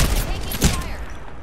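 A rapid burst of video game gunfire, a dense crackling fusillade peaking near the middle, then fading with a voice faintly present.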